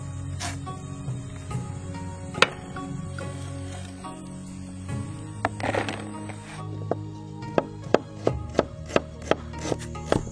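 A knife cuts and chops wild pineapple shoots in a forest in Bangka, giving sharp, close, irregular cutting clicks and snaps. They quicken into a rapid series near the end over a quiet rustling background.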